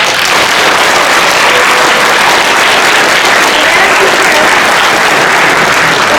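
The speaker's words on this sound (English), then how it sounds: "give him one more round of applause" A crowd gives loud, sustained applause for a guest speaker at an ocean conservation and shark awareness talk, dense and close clapping holding evenly from start to finish.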